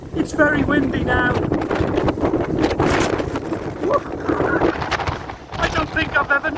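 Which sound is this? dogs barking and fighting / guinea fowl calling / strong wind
strong wind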